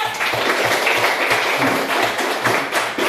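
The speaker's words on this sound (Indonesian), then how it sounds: "tepuk tangan" Students applauding in a classroom, a dense run of overlapping handclaps with a faint regular thump underneath, steady and fairly loud throughout.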